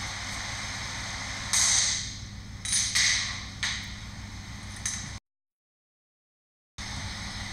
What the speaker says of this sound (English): Here I'm just going to center punch the center